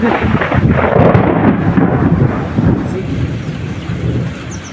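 Deep, steady rumbling of thunder rolls on continuously, heavy and loud, mixed with the wash of rain and gusty wind during a thunderstorm.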